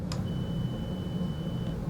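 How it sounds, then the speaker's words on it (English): An audiometer in a hearing test emits a single thin, steady pure-tone beep lasting well over a second, clear and isolated above a low background hum, with no speech. "Make sure that they identify the beep at least twice at the same level."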